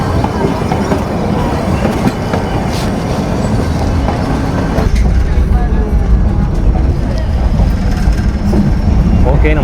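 The Ooty toy train pulls away from Ketti railway station bound for Udhagamandalam, with steady rumbling wheels and clickety-clack close by, occasional squeals, and a crowd of voices beneath.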